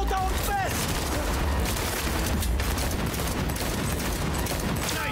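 Continuous gunfire in the video game Cyberpunk 2077: dense, loud shots and bursts blending into a constant roar of combat noise, with faint shouting voices mixed in.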